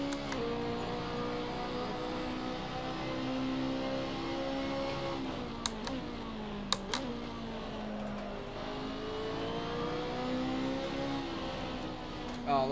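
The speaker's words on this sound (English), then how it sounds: "you don't sit there and rev it up and down like that" A racing car engine in Assetto Corsa, a BMW on the Nurburgring GP circuit, drones steadily and climbs and falls in pitch through gear changes, with brief clicks of shifts, no talk.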